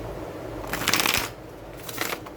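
Tarot cards being shuffled by hand, two brisk riffling bursts close by, the first longer and louder, the second brief, over a faint room hiss.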